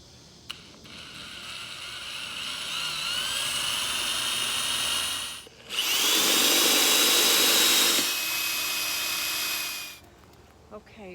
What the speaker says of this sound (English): I've got my drill. It's about a 3/8 inch of a drill bit